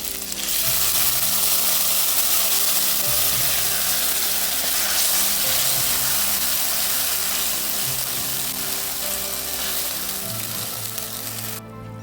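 Ground coconut paste fries in a little mustard-seasoned oil for a Kerala-style fish curry, making a loud, steady sizzle and bubbling hiss close by that runs continuously for several seconds before cutting off, with no speech.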